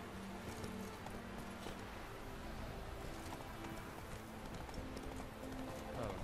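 Horse hooves clip-clop in a steady trotting rhythm while riding in The Witcher 3: Wild Hunt video game, continuing throughout under light ambient wind.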